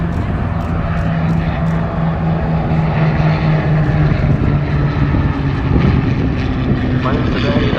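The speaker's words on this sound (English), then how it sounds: "the two famous Allied World War II fighters, the Spitfire and the Mustang, led by the Hudson bomber" A WWII Spitfire, Mustang and Hudson bomber fly past at an air show, their piston propeller engines giving a steady, loud droning roar throughout. A voice talks over the engines.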